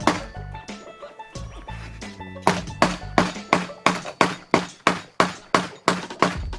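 Metallic hammer blows ring out, a few scattered strikes, then a steady rapid run of evenly spaced hits, loud and close.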